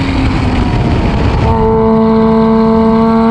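A Porsche Boxster S fitted with a Top Gear valved exhaust revs loudly and close. A rough, roaring engine note settles midway into a steady, droning tone.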